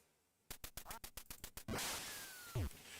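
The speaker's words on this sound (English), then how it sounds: "You gotta be careful when laying out those ducks." A rapid run of about nine nasal duck quacks from the NES game Duck Hunt comes through clear and close, followed by a rushing noise and a falling electronic tone.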